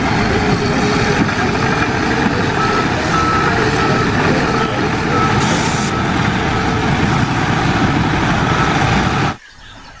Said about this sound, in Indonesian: Yang ini ada mobil dump truck.